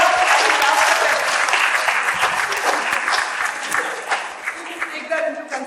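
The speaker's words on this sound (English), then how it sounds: "clap for Gautam." Audience at a dental workforce education panel claps for Gautam, a dense, lively burst of applause from a sizeable crowd that stays loud and fades slightly toward the end.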